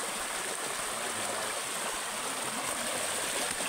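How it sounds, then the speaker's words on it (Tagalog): Clear water rushing steadily at the base of a riverside waterfall: a dense, continuous roar with no breaks, fairly close and without any voices over it. "Waterfalls."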